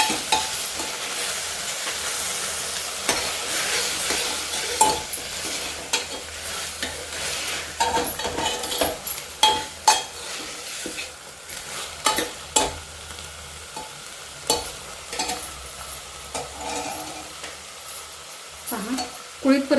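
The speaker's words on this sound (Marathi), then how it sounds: "याच्यात हे कुळी टाकून घालत आहोत ते छानसे परतून घ्यायचं" Horse gram sautéed with browned onion in oil, a continuous close sizzle with repeated spatula scrapes and taps against the pan throughout, no voices.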